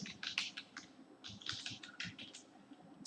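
Rapid keystrokes on a computer keyboard while C code is entered, a dense run of close, crisp clicks in uneven bursts with short pauses.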